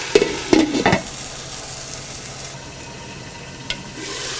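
Chicken pieces for pepper chicken are stirred in a frying pan, with a few close scraping clatters early on, then a steady soft sizzle that runs alone, and one more brief scrape near the end.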